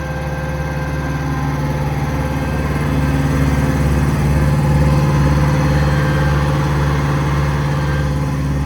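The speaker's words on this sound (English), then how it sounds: "run the compressor, just pull down on the auxiliary on the remote. The compressor comes on." Hydraulic air compressor on a 2018 Kenworth T370 service truck running alongside the idling engine: a steady, loud low drone with a constant hum that swells slightly in level partway through and stays continuous.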